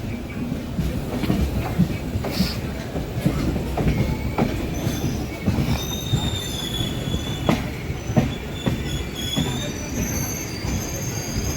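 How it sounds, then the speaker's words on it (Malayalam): The Tirunelveli train rolls through Madgaon station in Goa at night, with loud metallic wheel squeals rising over a rumbling, clattering run of cars passing close by. "തിരുനെല്ലുവേലി ട്രെയിൻ കേട്ടോ രാത്രി ഒമ്പതരയ്ക്ക് മഡ്ഗോവിൽ നിന്ന്"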